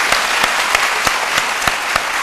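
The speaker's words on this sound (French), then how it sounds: "Je crois que ça doit s'applaudir" Loud studio audience applause on a French-language midday talk show, a close, dense wash of clapping with a few sharp individual claps punctuating it at regular intervals.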